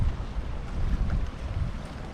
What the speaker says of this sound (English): a 20-mile-an-hour wind with up to 30-mile-an-hour gusts